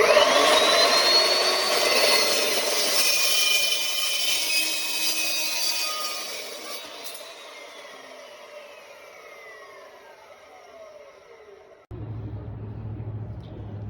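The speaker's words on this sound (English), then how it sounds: "This is a cold cutting saw." A cold cutting saw cuts a metal axle saddle in a shop, a loud sustained whining grind with rising and falling tones that slowly winds down, then a lower motor hum remains.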